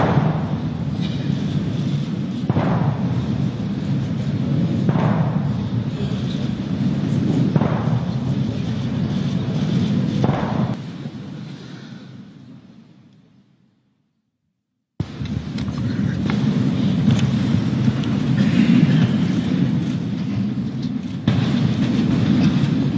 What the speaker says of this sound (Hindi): 21 तोपों की सलामी। ये जो आवाज सुन रहे हैं आप,